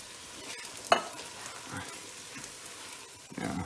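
Tomato puree sauce poured over meatballs in a pan on medium heat gives a soft, steady sizzle and bubbling, with faint stirring and a few light clicks of utensils, fairly quiet throughout.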